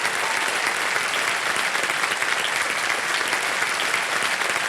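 Dense, steady studio audience applause on a quiz game show set, a loud continuous wash of many hands clapping with no gaps and no speech.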